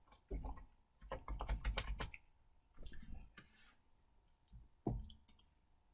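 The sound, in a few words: typing on a computer keyboard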